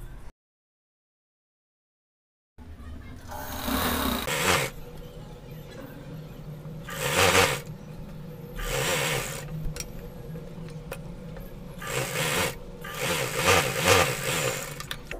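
A sewing machine stitches gharara fabric in several bursts of rapid whirring and clatter, each run a few seconds long, separated by short pauses, after a brief silent gap at the start.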